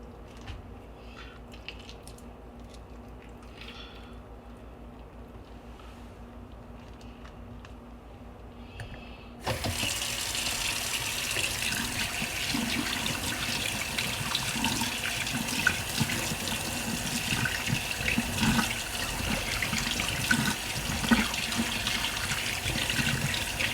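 Tap water gushes into a sink to rinse a freshly gutted and cleaned fish, starting abruptly after a quiet stretch and then running as a loud, steady splashing rush to the end.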